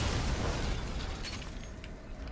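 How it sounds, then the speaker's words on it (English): An explosion in Resident Evil Village erupts as a loud, dense burst that roars and then slowly decays over a couple of seconds, with faint crackling debris toward the end and no speech. "I don't think that explosion does damage"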